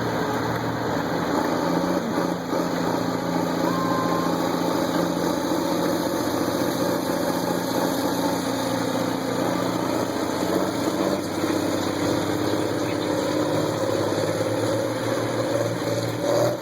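A 1952 pulling tractor's engine idles steadily while warming up at an outdoor tractor pull, a continuous loud, even mechanical drone with a constant harmonic hum and no voices.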